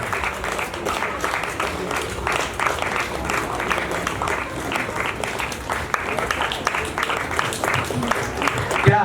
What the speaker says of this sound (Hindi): इसलिए तालियां बजती रहनी चाहिए